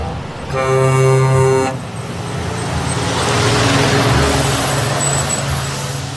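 A tanker truck sounds a loud, steady horn blast lasting about a second, followed by rumbling engine and roadway traffic noise as it passes nearby.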